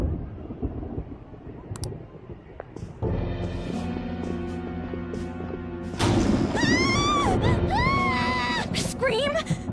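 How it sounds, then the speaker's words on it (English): A scream rings out inside the video game Persona 5 Royal over brooding music and rumbling ambience, rising into a series of shrill, wavering cries near the end. "Scream? What was that?"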